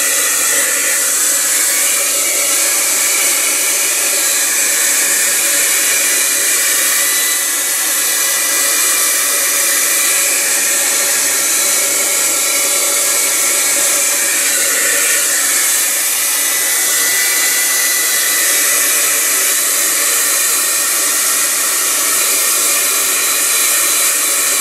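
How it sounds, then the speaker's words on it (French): An electric hair dryer runs steadily while drying a television terminal, a loud, constant close-up blowing whir with no pauses throughout. "je vais faire sécher le tout à l'aide d'un séchoir électrique"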